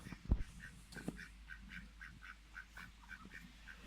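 Ducks quack repeatedly on a small Welsh hobby farm, a steady series of short nasal calls at moderate distance, with a louder thump or two near the start.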